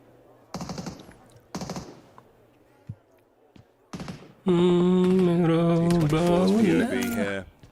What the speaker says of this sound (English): There's been bullets whizzing through the window.